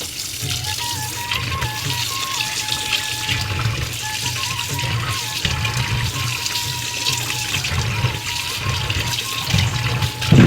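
Cleaned Boi and Palu fish are washed in a dish of water, giving a steady close splashing and sloshing, with a faint tonal whine running underneath.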